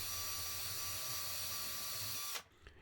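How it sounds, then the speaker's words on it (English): Power drill whirring steadily while boring pilot holes into an IKEA kitchen cabinet end panel, a close, continuous high-pitched whine that stops abruptly near the end. "drill the pilot holes."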